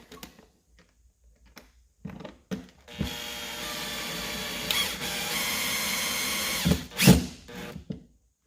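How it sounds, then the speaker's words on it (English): A power drill drives a screw into stripped cooler hinge hardware, whirring steadily for about four seconds after a few light clicks and handling knocks, then a short loud burst as the screw tensions up. "Then I'll come in with my drill in a second to show you how that works."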